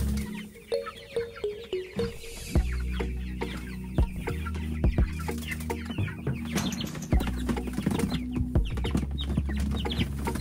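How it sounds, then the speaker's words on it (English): Meat chickens cluck and squawk close by as they are caught and lifted out of a brooder, with dense overlapping calls, some sharp louder squawks, and a steady low rumble underneath. "Now we get the fun task of going out and getting all the meat birds out of the brooder."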